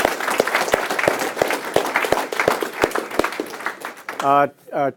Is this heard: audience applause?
yes